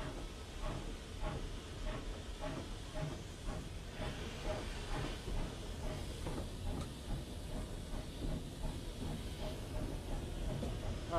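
A British steam locomotive moving off slowly with an unfitted freight train gives steady rhythmic chuffs and hissing steam, with faint clanking wagons over a constant low rumble.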